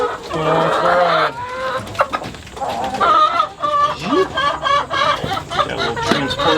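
Several chickens in a coop cluck and murmur steadily at close range, with a rooster-like call rising among them and some shuffling in the background.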